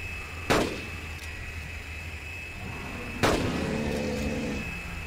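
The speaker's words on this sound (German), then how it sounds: "Wir machen direkt drei Schüsse." Two sharp, loud gunshots go off a few seconds apart in the dinosaur-hunting game Carnivores: Dinosaur Hunter Reborn, each a sudden crack with a short echoing tail over a steady low ambient hum.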